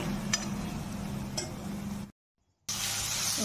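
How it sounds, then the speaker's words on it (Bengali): Turmeric and Kashmiri red chilli powder fry in a pan for a vegetarian ridge gourd and potato dish. Soft, steady hiss with a couple of faint ticks; it cuts out briefly, then resumes. "দিয়ে এগুলো একটু ভেজে নিচ্ছি"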